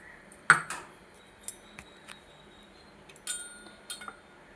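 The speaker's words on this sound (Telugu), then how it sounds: "ఇవి చక్కగా కలిపేసుకోవాలండి" A spoon clinks and scrapes in a bowl while mixing leftover rice with onion, green chilli, carrot, chilli powder and salt: a few sharp metallic taps spaced irregularly over quiet background, no talk.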